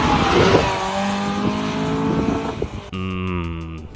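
A ground-up restored Mazda hatchback revs its engine, with rising and falling harmonic tones, followed by a sudden cut to a steady, buzzing high-pitched engine note with rhythmic pulses near the end.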